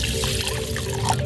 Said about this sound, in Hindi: इसमें फिर आपको डाल देना है 1 गिलास पानी